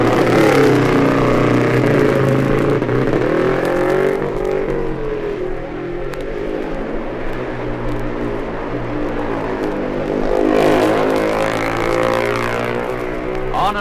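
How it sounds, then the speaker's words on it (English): A 1958 AJS racing motorcycle at the Senior TT, engine note rising and falling as it slows for the very slow Governor's Bridge corner and then pulls away. Loud and continuous, with no talk. "And round it goes the AJS of American John Marcotte."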